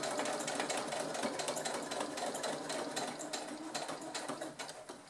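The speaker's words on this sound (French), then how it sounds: "Voilà, c'est parti pour la couture. Je fais bien mon point d'arrêt." A sewing machine stitches a bucket bag handle in one continuous run, a fast even mechanical whir close up that slows slightly at the end.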